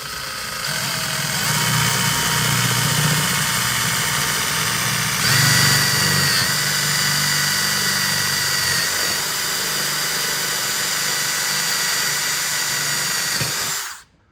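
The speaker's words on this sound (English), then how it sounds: "You want to try to drill the hole right in the center of the belt line." A power drill bores a hole in the upper belt line of a Monaco motorhome, a continuous loud whine with shifting pitch under load that runs for about fourteen seconds before cutting off abruptly.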